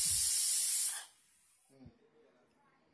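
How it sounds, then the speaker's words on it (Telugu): A loud hissing jet of steam from a pressure cooker's third whistle, while cooking bottle gourd, cuts off abruptly after about a second, leaving quiet with faint clicks. "3వ విజిల్ వచ్చింది"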